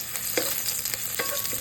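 Garlic and onion sauté in a hot pan with a steady, close sizzle, broken by a few sharp scrapes and clacks of a utensil stirring; no one speaks.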